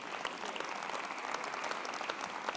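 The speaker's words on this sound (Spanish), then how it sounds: "Otro aplauso para ellos" An audience at a mobility awards event applauds two presenters, a steady, fairly even wash of many hands clapping at moderate distance with no speech over it.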